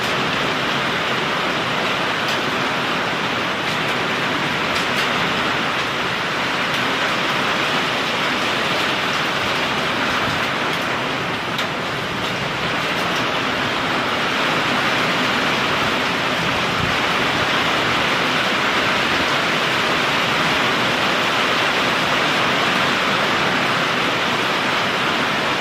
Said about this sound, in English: Here's the hail, guys. I hear it.